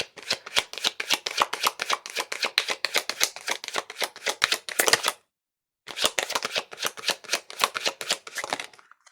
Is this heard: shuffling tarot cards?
yes